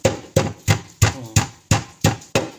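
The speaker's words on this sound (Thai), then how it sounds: "ตำไปเลยจ้า" A pestle pounds garlic and chilies in a mortar, eight heavy, evenly spaced thuds in a steady rhythm, each a sharp close knock, with nothing else heard between blows.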